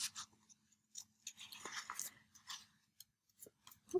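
Scissors snip through a piece of trash material to cut out a heart stencil, a close, quiet series of short crisp cuts with small rustles between them.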